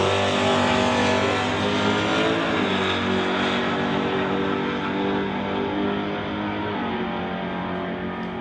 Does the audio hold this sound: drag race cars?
yes